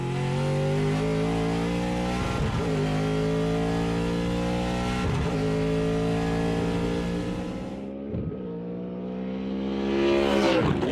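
Supercars Gen3 V8 race car engine and exhaust revving hard and close, rising in pitch through several long pulls with brief dips between them, then dropping off and building again at the end.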